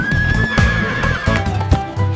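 A horse gives a loud, close whinny that wavers and trails off, with some soft thudding hoof sounds beneath it.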